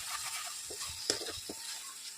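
A masala vegetable mixture for a sandwich cooking in a pan, with a soft crackling sizzle and light stirring scrapes, one sharper clink partway through, all quiet and close.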